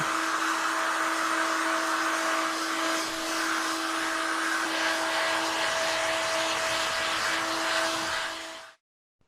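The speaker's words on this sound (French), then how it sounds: "Avec le décapeur là. Un petit coup, c'est reparti." A heat gun blows steadily to dry paint on an MBK Booster 70cc engine crankcase, a loud continuous whine with a whistling tone that holds for about nine seconds and then cuts off abruptly.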